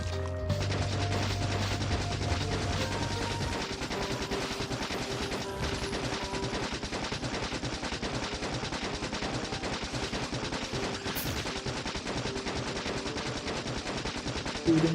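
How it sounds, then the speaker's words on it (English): Sustained rapid gunfire in the video game Teardown as attacking creatures are shot down, a dense, loud, unbroken barrage of shots lasting throughout with no voices. "Shooting."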